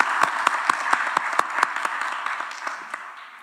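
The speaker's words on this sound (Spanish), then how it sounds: "Un aplauso." Applause from the audience at an Ibero-American summit on migration, with a few sharp, evenly spaced claps at first that loosen into scattered clapping and fade out.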